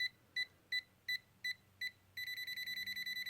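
Electronic beeping from a Tesmen TMM-569A multimeter's voltage tester: six short, evenly spaced high-pitched beeps, then a faster continuous run of rapid beeps, clear and close.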